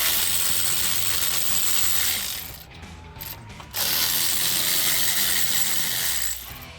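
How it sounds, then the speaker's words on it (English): Electric ratchet spinning bolts on a Ford F-150 front wheel hub during a bearing and hub swap, a loud continuous mechanical ratcheting whir that pauses briefly midway, then resumes before tapering off. "Come back with my electric ratchet to get this job a little"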